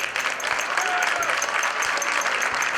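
Crowd applause for a couple at an outdoor vehicle show at a shopping center, steady continuous clapping with a low rhythmic thump running beneath it.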